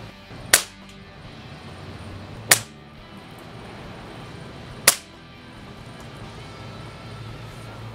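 Three sharp shots from a Daystate Huntsman Classic air rifle, heard at the shooter's ear, each a crisp crack spaced about two seconds apart against quiet background noise.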